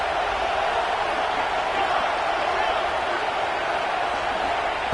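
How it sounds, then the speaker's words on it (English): A stadium crowd in the NCAA College Football 26 video game, at a Texas game, gives off a dense, steady roar that stays loud and unbroken throughout. "listen to this crowd noise. This stadium is vibrating."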